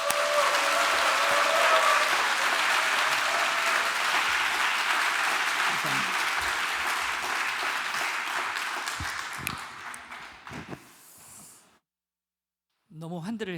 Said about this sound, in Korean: 목사님 나오실 때 큰 박수로 환영해 주십시오